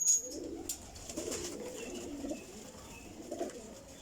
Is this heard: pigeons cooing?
yes